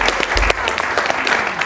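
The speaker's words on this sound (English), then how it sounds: "So give her a round of applause." Audience applause for a woman who paints pianos set outside in summer: a brief, dense burst of clapping from a crowd, loud and steady throughout, with no voices over it.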